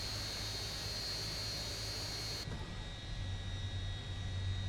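A Lockheed L-1011 TriStar jet engine spools up during start in a flight simulator game, a steady broadband whine and rush with a low hum, fairly quiet and continuous, with a sudden change in tone halfway through.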